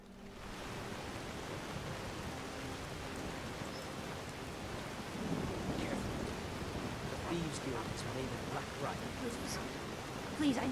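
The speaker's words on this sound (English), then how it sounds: "I don't want to go head out into the dark on a dark, stormy night like this" Steady rain in the video game Skyrim on a dark stormy night, a soft continuous wash of rainfall with a few faint higher spatters and a slight swell midway, no distinct thunderclap and no talk.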